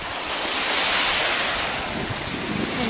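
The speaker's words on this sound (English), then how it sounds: "And the waves are crashing a little bit." Ocean waves wash and crash at a harbor at sunrise, a broad rushing surf swelling and easing, mixed with wind buffeting the microphone; no one talks.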